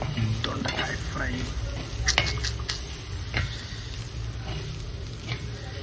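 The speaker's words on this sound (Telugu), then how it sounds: "వావ్, దొండకాయ ఫ్రై." Ivy gourd (dondakaya) fries in a pan with a continuous sizzle, while clicks and scrapes of stirring break in at irregular moments over a low hum.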